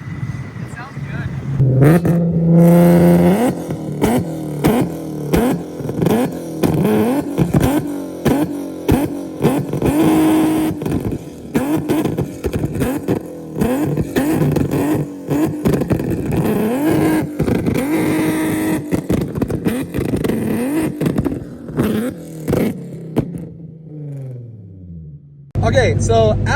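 An Infiniti G37 with a full ISR exhaust, longtube headers and catback revs repeatedly and loudly up close, each rev a quick rising roar that falls back, in an uneven series lasting about twenty-five seconds before dropping off.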